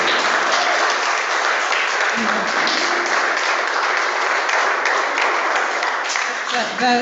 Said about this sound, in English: Let's have another round of applause for the Trafalgar Choir